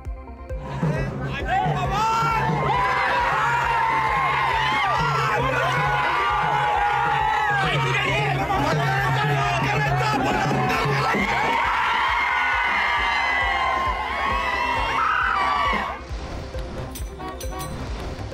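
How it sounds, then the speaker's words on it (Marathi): Election supporters celebrating outdoors, a loud dense crowd of whoops, shouts and cheering with possible chanting, sustained for about fifteen seconds before cutting away. "उमेदवार उज्ज्वला थिटेंचा अर्ज बाद झाल्यानंतर विक्रांत पाटलांचा जल्लोष"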